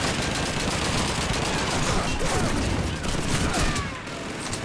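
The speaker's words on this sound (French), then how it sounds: "Je crois qu'il y a un de nos potes qui me tire par derrière, non?" Dense, continuous gunfire in the World War II shooter Call of Duty 2, loud and close, with rapid overlapping shots and bursts filling every moment and a faint voice buried in the din.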